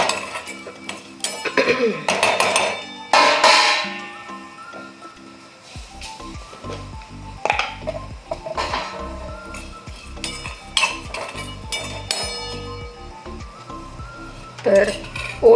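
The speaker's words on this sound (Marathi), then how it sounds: "चमच्याने छान लालसर होईपर्यंत भाजायचं आहे" A spoon scrapes and clinks steadily against a metal pan while ingredients are dry-roasted until lightly browned, with faint sizzling underneath; the scraping is close and busy, in bursts across the whole stretch.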